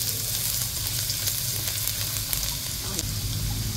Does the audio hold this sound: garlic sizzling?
yes